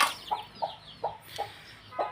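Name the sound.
chickens clucking with newly hatched chicks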